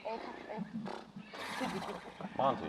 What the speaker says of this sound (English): So if you need horse noises